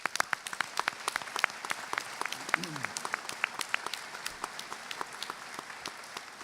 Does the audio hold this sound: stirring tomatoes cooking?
no